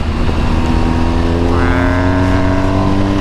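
A motorcycle on new tires rides quickly through the corners of twisty roads, its engine loud and close with a steady drone and a rising rev, under wind noise.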